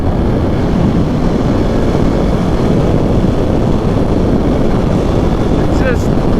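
Broadband motorcycle engine and wind roar from a KTM 690 SMCR riding flowing back roads, steady and loud throughout, with a voice briefly heard near the end.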